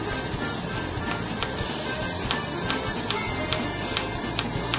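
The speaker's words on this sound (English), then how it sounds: "Before I started spray painting." An airbrush set to 20 PSI sprays paint onto a model SR-71, giving a steady, even hiss throughout with faint regular ticks, moderately quiet and with no voices.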